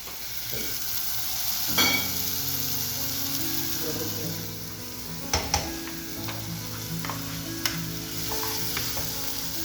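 Arroz carreteiro fries in a beaten aluminium pot with a steady, close sizzle, broken by a few sharp clinks of stirring against the metal, while a voice murmurs faintly underneath.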